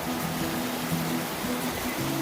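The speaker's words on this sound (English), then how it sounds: "And here we go, McKinley River." Gray, silt-laden glacial runoff of the McKinley River in Alaska rushes steadily as a continuous broadband wash, moderately loud and unbroken, with no voices.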